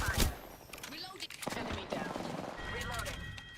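Apex Legends gunfire in bursts of rapid shots, loud and close, with a sharp blast at the start and scattered shots after, while a player talks over the action.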